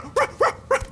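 A cartoon dog in a French-dubbed animated series barks four times in an even rhythm, each bark short, close and clear, with no other sound.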